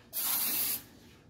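Non-stick cooking spray hisses from a can into a cake pan: a single loud, bright spray burst lasting under a second, close and alone.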